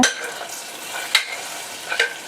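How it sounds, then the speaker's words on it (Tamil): A spoon stirs fried pepper and cumin into kodo millet pongal in a pan, giving soft scraping strokes and a faint sizzle, with a few sharper clinks against the pot. "சேர்த்து நல்லா மிக்ஸ் பண்ணி விடுங்க"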